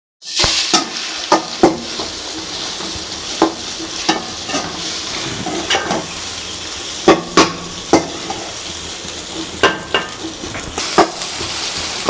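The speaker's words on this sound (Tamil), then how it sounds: "இப்போ 2 முட்டை நம்ம உடச்சி ஊற்றி அதை நல்லா கை விடாமல் கிண்டிக்கலாம்" Two broken eggs fry over half-cooked vegetables for fried rice, with a steady sizzle under repeated sharp clacks and scrapes of a spatula against the pan, irregular but frequent.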